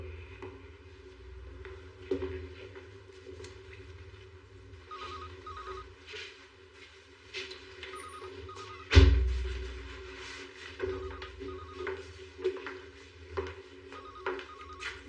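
A telephone rings in a quiet room, sounding repeated double trills at moderate volume, with a sharp thud partway through and soft background movement.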